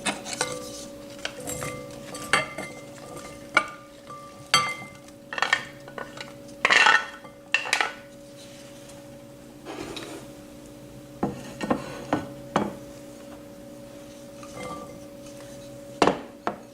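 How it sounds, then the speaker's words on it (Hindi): Chickpea salad ingredients are mixed in a bowl with a utensil, giving a run of scattered clinks, scrapes and knocks against the dish, close and irregular, with no talking. "तो एक बोल में इन तमाम चीज़ों को मिक्स कर लेंगे।"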